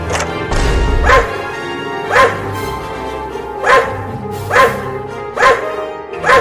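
Cartoon dogs bark in a loud, regular series of about six sharp woofs spaced roughly a second apart, close and dominant over a low background hum.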